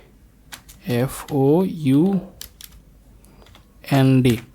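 Light clicks from a computer keyboard as text is entered in Excel, soft and scattered between stretches of someone speaking close to the microphone.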